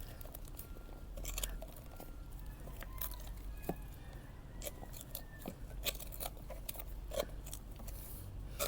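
Strong scissors cut through bonsai branches, giving repeated sharp snips and crunchy clicks at close range with no talking.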